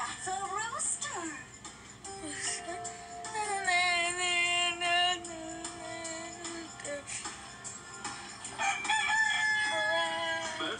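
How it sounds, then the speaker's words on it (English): Rooster crowing in a chicken coop, a few bright drawn-out cock-a-doodle-doo calls mixed with clucks, up close and clear over background music and talk. "I know, that's a rooster."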